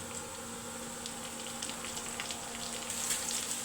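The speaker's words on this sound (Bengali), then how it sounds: "বাগারের জন্য এখানে পেঁয়াজ আর তেল দিছি এখন দারচিনি দিলাম আর কয়েকটা তেজপাতা দিলাম" Onion, cinnamon and bay leaves frying in oil, a dense continuous sizzle with crackling, steady and close throughout, with no talk.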